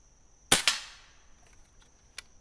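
Crosman 1322 Backpacker air pistol firing a single sharp close shot, a quick crack with a brief ringing tail, followed by a small faint tick of impact a moment later in a quiet setting.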